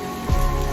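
Rain falling outdoors, a steady broadband patter on surfaces with a low thump partway through, heard alone without voices.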